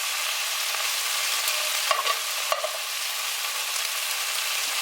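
Pieces of meat browning on the stovetop for a Flemish beer stew: a steady close sizzle throughout, with a couple of brief scrapes or clinks near the middle and no talking.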